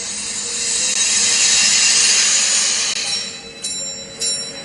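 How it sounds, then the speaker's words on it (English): A bell struck repeatedly inside a vacuum chamber as air is let back in, ringing steadily and growing clearer over a constant loud hiss of rushing air, with no talking. "now I think you can hear the bell quite clearly"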